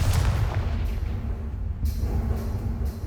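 Booming magical spell blasts in Hogwarts Legacy go off in quick succession, a series of loud explosive bursts over a rumbling low background with no talk.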